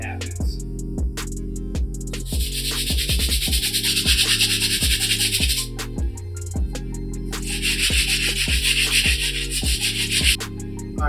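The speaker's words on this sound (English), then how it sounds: "move on to the last brush to clean up these soles" A brush scrubs the soles of wolf grey Jordan 3 sneakers in steady back-and-forth strokes, a rhythmic close rubbing that swells into harsher bristle passes, with no talking.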